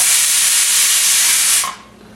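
A pressure cooker cooking kidney beans and rice lets out its first whistle, a loud, close, sustained steam hiss that cuts off sharply after nearly two seconds, leaving a quiet kitchen.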